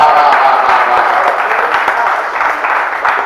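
A crowd at a Hindi comedy poetry show applauds loudly and steadily, dense clapping filling the whole stretch with a slight fade toward the end.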